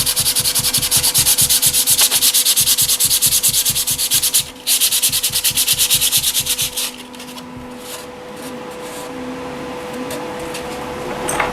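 Sanding 3D-printed plastic wing parts for an F-35B RC VTOL jet model: a loud, fast rhythmic scraping runs steadily for about seven seconds, breaks briefly, then fades to quieter, intermittent rubbing over a low background hum.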